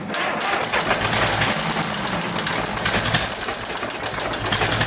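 The engine of a 1961 Nuffield Universal 3 tractor runs loud and close after a head gasket job, with a steady, rapid diesel clatter that holds throughout and no talk.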